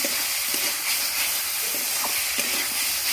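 Spice masala being sautéed in a pan for a fish curry gives a steady close sizzle with occasional stirring scrapes, with no talking.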